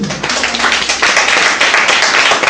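A church congregation claps and applauds together in worship, a dense, loud, steady wash of many hands with slight rhythmic pulses across the whole moment.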